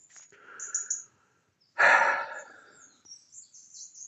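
Birds chirp and sing in a woodland near open fields, short high calls scattered across the clip, with a breathy sigh or gasp up close in the middle.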